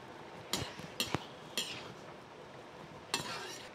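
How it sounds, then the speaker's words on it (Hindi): Tomato and spice vegetable curry is stirred in a pot with a spoon, giving several sharp metallic scrapes and clanks in irregular bursts, close and moderately loud, with no talking. "और इसको अच्छे तरीके से चला देंगे"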